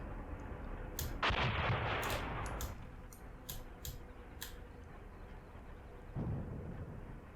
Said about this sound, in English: And I'm firing armour-piercing high explosive at them.